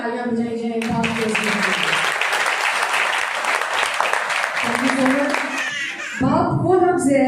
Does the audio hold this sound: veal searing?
no